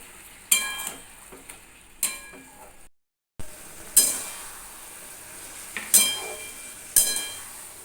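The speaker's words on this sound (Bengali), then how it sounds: "এই সমস্ত কিছু মশলা দিয়ে একটু ভালো করে কষিয়ে নিতে হবে" Spices being sautéed with potato and ridge gourd for a curry, giving a low sizzle broken by several sharp spatula scrapes and clinks against the pan at irregular intervals, fairly close, with no talking.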